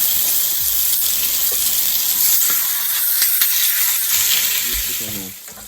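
Cream cheese stuffed chicken sears in a hot pan, giving a steady, fairly loud broadband sizzle with hiss and a few clicks and pops, which fades slightly toward the end.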